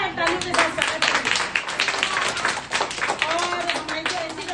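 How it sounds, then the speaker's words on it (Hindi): Lively clapping from an audience welcoming a guest at an award ceremony, individual claps distinct and rhythmic, with a voice speaking over them now and then. "तो इनका जोरदार तालियों के साथ स्वागत करें।"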